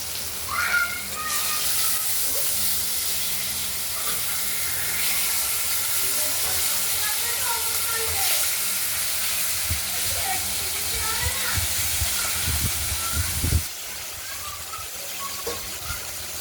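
Katla fish pieces frying in a pan, a steady loud hissing sizzle of hot oil with occasional spits and spatula knocks.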